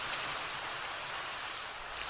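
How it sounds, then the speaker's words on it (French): Steady rain in the Minecraft video game, an even broadband hiss with faint patter that holds at one low level for the whole stretch, with no voices. "j'entends, il pleut un peu dehors"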